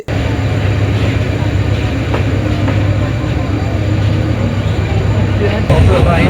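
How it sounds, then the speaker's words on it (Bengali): A Sagarika commuter train between Chandpur Court and Chandpur Boro Station in Bangladesh rumbles along steadily, with a loud continuous roar and faint rhythmic clatter heard from on board. "ট্রেনটি ছুটে চলছে তার গন্তব্যস্থল বড় স্টেশনের উদ্দেশ্যে"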